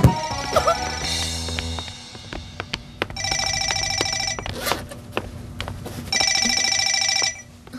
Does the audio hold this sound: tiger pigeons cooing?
no